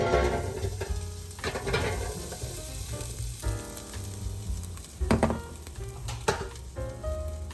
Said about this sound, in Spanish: Vamos a esparcirlos por toda la bandeja para que puedan tostarse bien.